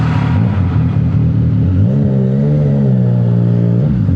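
A CFMOTO 675 NK motorcycle engine blipped for a rev-matched downshift, a loud, close, steady engine drone that rises in pitch partway through, then holds and dips slightly near the end.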